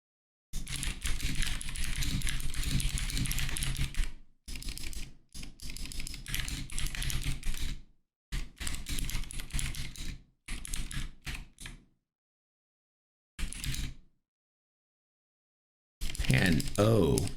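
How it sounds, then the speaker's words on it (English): Typing on a keyboard in bursts of rapid close clicks, broken by short silences and gaps before another flurry. "You all can hear me type this."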